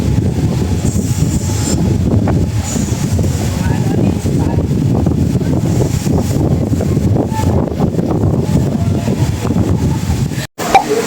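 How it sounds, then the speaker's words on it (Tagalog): Steady wind gusting at a hotel pool in Cebu, a constant loud rumbling buffet across the microphone that runs unbroken throughout, with a brief dropout near the end. "Mahangin."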